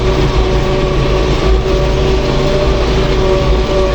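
A newly installed engine on an MTZ tractor runs at a steady idle, a loud, close, continuous low diesel rumble with a constant hum and no talk.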